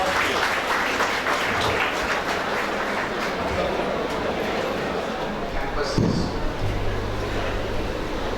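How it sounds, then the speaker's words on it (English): An audience at a university campus event in Dhaka, Bangladesh, breaks into sustained clapping that stays dense and even for several seconds, with a voice speaking over it. "Give it a big applause."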